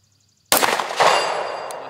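A rifle shot rings out and strikes a steel gong target at long range, a sharp loud crack followed by a metallic clang that hangs and slowly fades.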